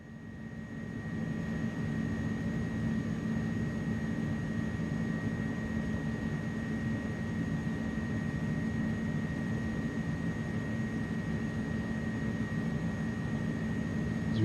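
Airbus A300-600F jet engines held at takeoff thrust in Microsoft Flight Simulator 2024: a steady, unbroken roar with a thin constant whine above it, even in loudness throughout and no voices.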